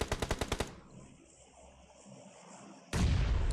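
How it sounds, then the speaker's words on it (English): Grenade blasts in the mobile battle-royale game PUBG Mobile during a tournament match: a rapid run of about seven sharp bursts at the start, a quieter stretch of ambient game noise, then a loud, booming roar near the end. "Nades being thrown every which way between Ultimate Gaming and Game Over Forever."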